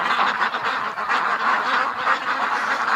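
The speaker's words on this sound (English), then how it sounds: "The only duck that Doug can get close to" Ducks quack continuously in a winter barn, a dense, steady flock chorus of overlapping calls heard close and loud throughout.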